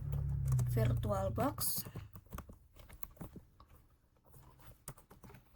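Keys tapped on a computer keyboard while entering a search, a quick run of close, crisp clicks heard under a person speaking.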